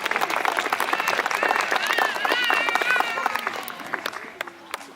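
A concert audience at a brass band festival applauds the sound engineers with a burst of clapping and crowd noise, under a voice talking and a wavering tone, tapering off toward the end.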